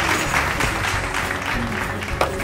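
Brisk applause from an audience at a donation program in Nepal, continuous through the moment with some voices mixed in.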